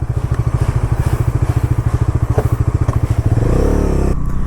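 A Bajaj Dominar 350 motorcycle engine thumps in a steady, rapid idle rhythm, then revs up into a smoother, louder drone near the end.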